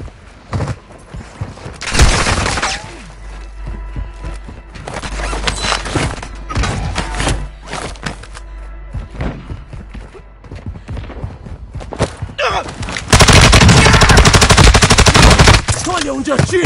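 Rapid Call of Duty gunfire rattles through a long stretch of play, bursts of automatic shots and single cracks stacking up loud and close, with a dense, heavy barrage near the end and a faint voice briefly underneath.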